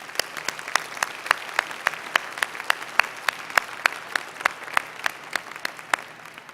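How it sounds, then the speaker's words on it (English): A seated audience at a medical association's presidential installation ceremony gives a round of moderate, evenly paced applause, with individual claps standing out clearly throughout. "Please give them a round of applause."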